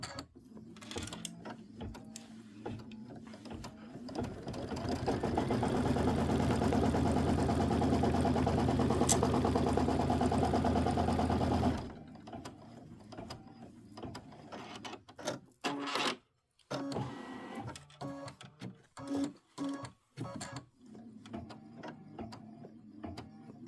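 A quilting sewing machine runs in a long steady whirring burst while stitching fabric borders, then gives way to short stop-start mechanical bursts and clicks at close range.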